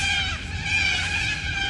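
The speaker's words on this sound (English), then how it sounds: "Sorry about the birds." Birds calling outdoors behind a speaker, a dense, steady chorus of high chirps and trills, fairly loud and continuous through the moment, with no talk during it.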